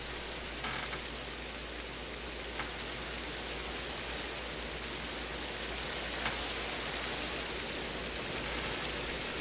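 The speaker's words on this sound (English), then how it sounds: "Get rid of this rain." Steady rain hisses in a Minecraft game world, an even broadband patter with faint soft ticks and no voices.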